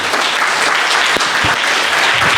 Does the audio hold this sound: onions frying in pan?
no